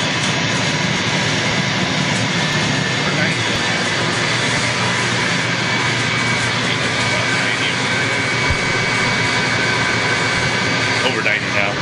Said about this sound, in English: a high pressure of getting about 110 is causing this Camaro boiler to open up the blow-off valve